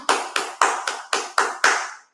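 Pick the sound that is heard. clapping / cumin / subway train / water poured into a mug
clapping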